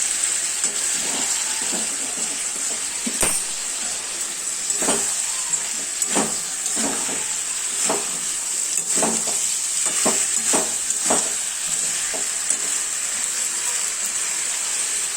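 Spices with cauliflower and potato fry steadily in a pan as hot water goes in, giving a constant loud sizzle with scattered stirring clatter throughout.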